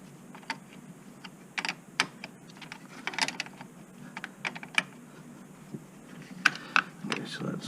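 Metal battery terminal clamp being tightened on a car or truck battery with a hand tool, giving a quiet series of irregular clicks and ratcheting ticks, close by, with faint background hum.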